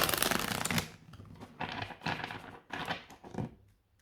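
Oracle cards are shuffled by hand up close, with a long riffling burst followed by several shorter papery shuffles and brief pauses between them, with no talking.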